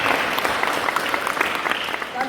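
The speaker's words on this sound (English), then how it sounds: "so I'm going to say another round of applause." Sustained clapping from a crowd at an AGM and 20th anniversary celebration, a dense even wash of applause with a faint murmur of voices beneath it.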